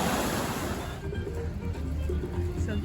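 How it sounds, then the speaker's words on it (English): Rushing waves churn in the pool at Blizzard Beach water park. The wash is loud and steady, like heavy surf, with some wind buffeting and a voice faintly under it. "So this doesn't have the big waves or the tidal waves. It's just lots of rushing waves."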